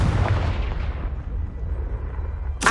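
A Confringo blasting spell explodes in Hogwarts Legacy on PS5, a broad booming blast that rumbles and decays over a few seconds, with a second sharp burst hitting near the end.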